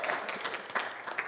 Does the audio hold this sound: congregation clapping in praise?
yes